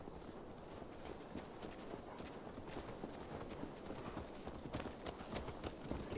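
Horse hooves clip-clopping in the video game Assassin's Creed Valhalla, a quiet steady rhythmic trot under a continuous low background rumble.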